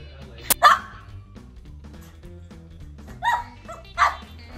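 A dog barks during zoomies, three sharp close barks spread over a few seconds, with a faint low hum of music or room noise underneath.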